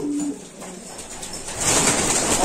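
Pigeon in a loft cooing softly at close range over a steady background hiss, growing slightly louder toward the end.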